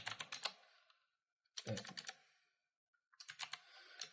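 Quick, light keystrokes on a computer keyboard come in three short bursts separated by silent pauses, close and fairly quiet.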